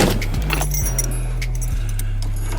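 Car keys for a 1970 Oldsmobile 98 jangling up close, with bright metallic clinks scattered across a few seconds over a steady low hum.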